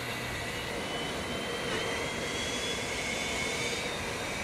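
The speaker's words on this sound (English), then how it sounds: "All right, let's start the right engine now." The right jet engine of an MD-80 airliner spins up during start, a steady broad roar with a faint rising whine, heard from inside the aircraft with no talk over it.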